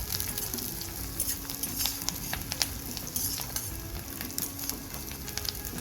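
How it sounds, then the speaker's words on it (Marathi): Tempering spices sizzle and crackle in a pan over medium heat for Maharashtrian shevya upma, a close, steady frying hiss with frequent small pops and stirring scrapes, no voices. "ही फोडणी 2 ते 3 मिनिटं मध्यम आचेवर भाजून घ्यायची आहे"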